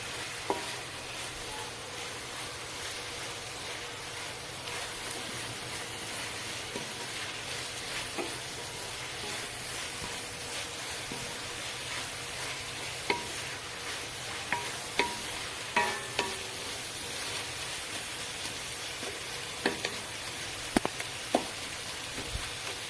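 Biryani masala with chopped tomatoes sizzles steadily in a pan, a constant moderate frying hiss with intermittent scrapes and light clicks of stirring, close and unaccompanied by speech.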